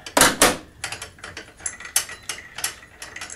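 A left-hand-thread blade nut is turned off a petrol multi-tool, producing a series of sharp ratcheting clicks and metallic ticks, close and clear with uneven spacing.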